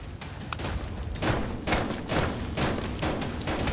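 Rapid gunfire in a VR shooter game, a dense run of thudding shots and impacts with no pauses, loud and close throughout.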